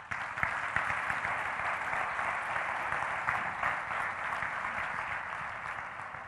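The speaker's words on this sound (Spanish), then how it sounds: "Recibamos con un fuerte aplauso a Encarna Ximénez de Cisneros." A seated audience at the tenth-anniversary gathering of the Club Cámara de Motril gives a speaker a warm welcome, steady continuous applause of moderate loudness that holds evenly for several seconds without talk.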